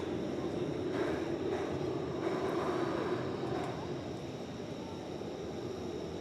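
American Airlines Boeing 737-800 taking off from runway 18 Left at DFW at night, a steady broad engine roar that holds loud and then eases slightly, with faint radio talk over it.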